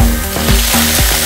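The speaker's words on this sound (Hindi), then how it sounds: "अब इस पे बहुत अच्छा सा एक तड़का लगाएंगे।" Desi ghee tadka sizzles hard on chicken harees, a loud, continuous frying hiss with a few stirring bursts, close and alone.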